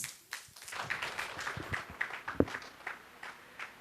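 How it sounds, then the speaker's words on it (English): Audience applause at a kindergarten graduation day ceremony: scattered, fairly faint clapping from a crowd, uneven and thin, with one sharper clap standing out. "Let's give a big round of applause as she comes forward to address us."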